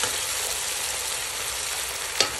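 Milkfish fries in a pan with black beans, a dense continuous sizzle at close range, broken near the end by one sharp clack of a utensil during stirring.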